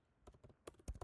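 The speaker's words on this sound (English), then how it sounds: "but I'm typing here" Quick keystrokes tap on a computer keyboard, a short burst of soft, irregular clicks close by in an otherwise quiet room.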